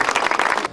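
An audience applauds at the awards part of the Pętla Beskidzka mountain bike marathon in Istebna, giving a brief, dense burst of many hands clapping.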